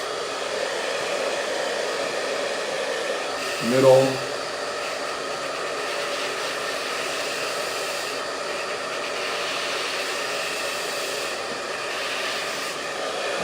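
A hair dryer blows steadily throughout while hair is styled with a round brush, a constant close whooshing roar with a brief bump in level as it is handled, and someone speaks briefly over it.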